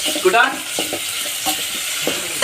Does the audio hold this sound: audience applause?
no